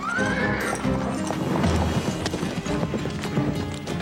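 Horses whinny loudly over a busy clatter of hooves, with several animals moving close by amid general commotion.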